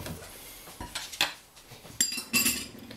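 A whisk works through oil and sauce with olive oil in a bowl, giving a few light metallic clinks and scrapes spaced irregularly, quiet and close with no voices.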